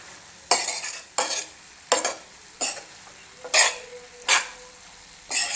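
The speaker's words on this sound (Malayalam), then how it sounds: "വീണ്ടും നമ്മൾ ഇളക്കി അടച്ചു വയ്ക്കാം." Onions fry in a pan while a spoon stirs them in about seven evenly spaced, close scraping strokes, each a short burst over a quiet sizzle.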